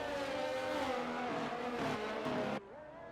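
Race cars screaming down the main straight at the Azerbaijan circuit in a Formula One style racing game, a loud sustained high-revving engine whine with shifting pitch that drops suddenly near the end.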